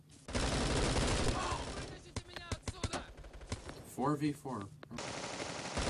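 Gunfire in the shooter game Bullet Force: a dense burst of automatic fire opens loudly, then single sharp shots and short volleys follow, with a voice speaking briefly in between.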